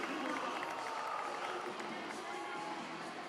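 Sports crowd cheering at a Chrome vs Cannons game after Matt Kavanaugh opens the scoring, a dense steady roar of many voices filling the space throughout, loud and continuous.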